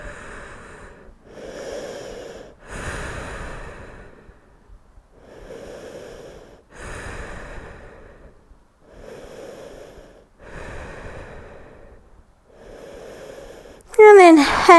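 Slow, deep breathing during a yoga session, each long inhale and exhale loud and close, repeating steadily with short pauses between breaths, and a brief sharp noise at the very end.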